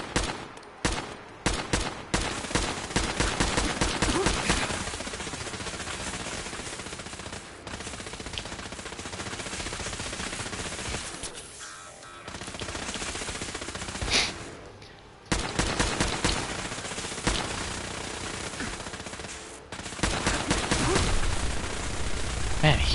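Sustained automatic gunfire in Fallout 4's Automatron add-on, with near-continuous loud bursts over about twenty seconds and brief gaps between them, with a player talking faintly underneath.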